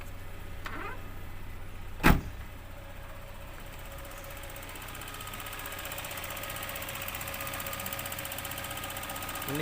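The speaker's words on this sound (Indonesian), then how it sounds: "sistem injeksinya yang bunyi tek tek tek tek itu enggak masalah, itu masih normal" A used car's engine idles with a steady low rumble while the fuel injection system ticks faintly; one sharp loud knock or thump comes near the start.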